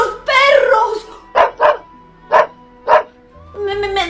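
A dog whines at first, then gives four sharp, loud barks spaced out over a few seconds, followed by a low tonal sound, with no talking.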